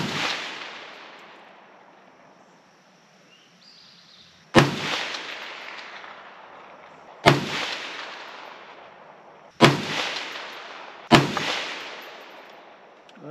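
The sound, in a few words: AR 47 rifle shots with Russian steel-case ammo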